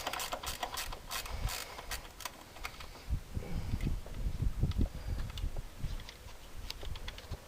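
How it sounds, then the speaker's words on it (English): Quick, fine clicking of a ratchet wrench turning a 13 mm bolt on a Chevrolet Vortec 5.7L 350 engine, close bursts of rapid pawl ticks with pauses between strokes, fairly quiet. "the handy little ratchet wrench. Makes life so much easier"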